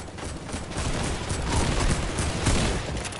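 Dense, continuous gunfire rattles in the Fortnite video game, a loud, sustained barrage of shots with no clear gaps.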